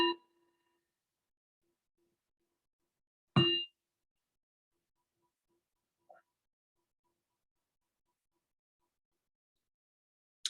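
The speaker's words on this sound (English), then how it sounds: "And the bell will take us in." A meditation bell is struck several times during a quiet mindfulness session, each stroke ringing out clearly, then fading into near silence, with a softer tap near the middle and another strike at the end.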